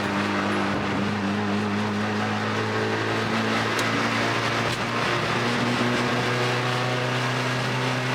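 Proton Satria Neo with a MIVEC turbo engine drones steadily under load, with a sustained high turbocharger whine held over the engine note throughout.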